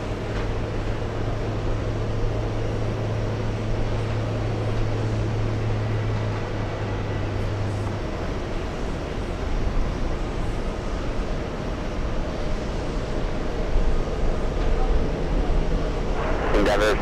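Lufthansa 411 airliner climbing out after departure from JFK and banking left, a steady broadband jet roar heard at a distance, continuous and fairly even throughout with a low hum running beneath it.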